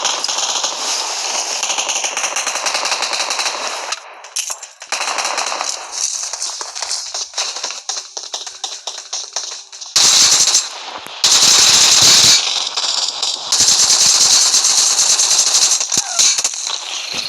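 Sustained rapid automatic gunfire in a ranked video game match, loud and close, in long bursts with brief pauses between them and some crackling impacts.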